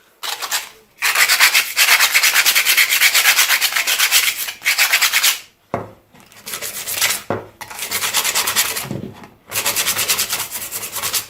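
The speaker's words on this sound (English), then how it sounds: "I want to sand the ends just to make sure there's nothing that's going to cut me on those" Wood being sanded by hand in long, loud, close back-and-forth strokes with short pauses between bursts.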